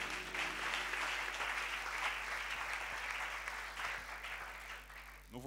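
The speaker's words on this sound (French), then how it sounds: "On acclame très fort le Seigneur. Acclamons encore le Seigneur." A church congregation applauds during a morning revival service in Lubumbashi, a dense, sustained wash of many hands clapping that fades slightly toward the end.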